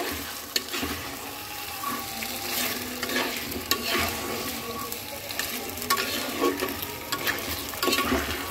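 Country chicken curry is stirred and fried in a pan, with a continuous sizzle and a scraping spoon that clatters irregularly at moderate volume, without speech.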